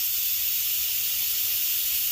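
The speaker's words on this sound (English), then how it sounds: "So I am going to let out the rest of the steam manually." Steam hisses steadily from the release valve of an Instant Pot pressure cooker after natural decompression, a continuous loud airy rush with no talking.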